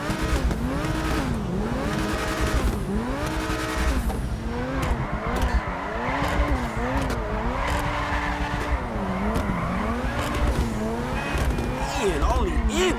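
A modded car in GTA 5 with anti-lag revs hard through repeated rising and falling gear pulls, with tire squeal and crackle, while a voice talks over the engine throughout.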